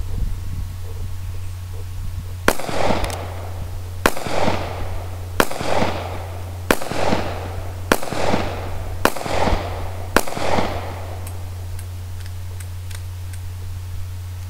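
A gun is fired at an outdoor shooting session, about seven sharp loud reports spaced roughly evenly a second or so apart, each with a short ringing echo, over a steady low hum.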